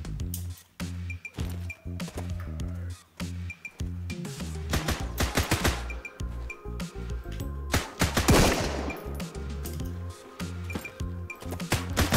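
Gunfire in the survival video game Sunkenland, rapid repeated shots in rhythmic bursts over a game soundtrack, with a louder noisy burst midway and quieter stretches between.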